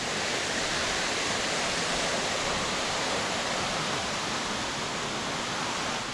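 Twin waterfalls with a third sibling cascade pour in a steady, dense broadband rush of falling water, continuous and unbroken throughout with no voices over it.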